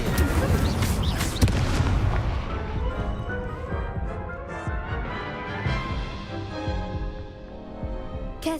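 Loud booming fire blasts and crashing impacts from an Incendio spell in a Harry Potter video game, a dense burst at the start that rumbles and fades, with game voices in the mix.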